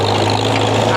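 Antique Farmall H tractor idling steadily while tedding hay, a loud, close, continuous low engine chug with a droning hum, and someone talking over the engine.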